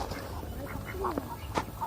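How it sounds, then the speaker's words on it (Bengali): Village ducks swimming in water and feeding on snails give several short, nasal quacks at irregular moments over a soft outdoor background, fairly near and moderately loud. "আমাদের গ্রামের হাঁসগুলো দেখেন কিভাবে পানির মধ্যে সাঁতরায় শামুক খায়"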